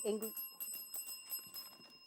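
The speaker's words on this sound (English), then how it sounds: "that bell signifies the end of the match" A bell rings to close a junior school quiz match, a steady bright electric ringing that holds through the whole stretch, with a brief voice at the very start.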